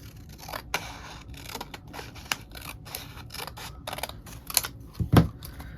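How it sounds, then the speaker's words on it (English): Scissors snip through a piece of cardstock during a washi-style packing tape craft, a series of short, close crisp cuts at an uneven pace with a louder final snip near the end. "I'm going to just cut that down like so"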